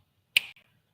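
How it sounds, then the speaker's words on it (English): A single sharp finger snap, close and crisp, standing alone against near silence with only a faint low murmur around it. "Not snapping my fingers at any of you, snapping at the camera"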